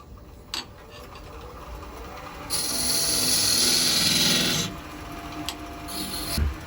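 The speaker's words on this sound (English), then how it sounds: "we'll scrape that out with the French curve scraper" French curve negative-rake scraper, made from an old planer blade, scraping wood on a lathe while turning a ball and vase piece; a steady raspy scraping rises at midpoint for about two seconds, then drops back to a quieter rub with brief clicks.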